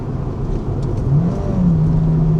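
Engine of an old Honda car revving up and down through a gear change between fifth and sixth, a steady near mid-pitched drone with a rising then settling tone, heard alone without talk.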